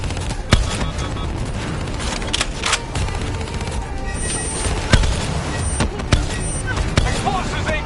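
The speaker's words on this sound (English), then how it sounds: "Hit him with the swarm launcher!" Swarm launcher rockets firing in Call of Duty: Black Ops 3 amid a dense, loud battle mix: repeated sharp blasts and bursts over a constant rumble of combat noise and vehicle-like drone.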